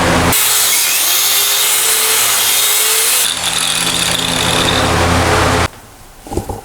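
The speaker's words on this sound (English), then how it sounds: "There's a piece of rebar here that runs across. I gotta cut that out." A power tool cuts through steel rebar at a toilet drain dig, a loud continuous high-pitched whine that grinds on for several seconds before stopping abruptly, followed by brief clatter.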